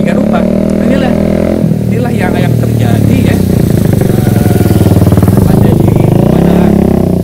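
A loud motorcycle engine rumbles and rattles close by in traffic, steady throughout, with someone talking over it.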